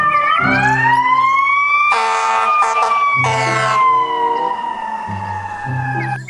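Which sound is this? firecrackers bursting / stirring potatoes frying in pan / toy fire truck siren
toy fire truck siren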